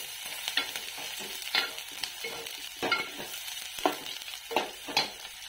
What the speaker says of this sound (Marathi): कांदा टाकते आता, कांदा चांगला आपल्याला लाल होईपर्यंत भाजून घ्यायचा।